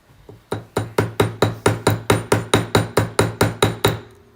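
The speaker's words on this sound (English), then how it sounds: "And then I hammer down, and I'm holding the stone with my finger so it's nice and protected." Steady hammer strikes setting a rivet in handmade jewelry, about fourteen sharp metallic taps in an even rhythm, close and loud with nothing else around them.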